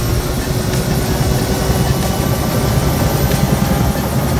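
A Bell 206 helicopter's turbine engine rolling up to speed during startup, a loud, steady, close whine and rumble with a faint rhythmic rotor pulse, continuous throughout with no talk.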